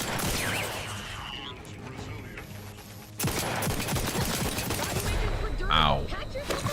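Turret gunfire from the video game The Outer Worlds 2 comes as a dense fusillade of rapid shots that swells loud after a brief lull, mixed with clanking mechanisms and a voice talking over the action.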